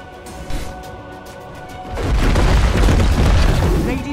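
Radiant's bottom tower in Dota 2 collapsing under attack, a deep booming explosion rumbling in after a quieter stretch of game sounds and holding loud and sustained to the end.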